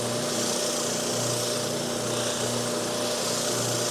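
Power sander shaping a tight inside curve on a birdseye wooden dovetail saw handle, a loud, steady whining grind with a low motor hum running continuously throughout.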